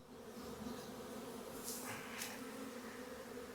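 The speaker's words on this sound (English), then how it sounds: "all these bees on the side will end up trickling inside" Honey bees from a wild colony being installed in a hive droning steadily and continuously, a dense close hum of many wings with brief brighter swells as individual bees pass nearby.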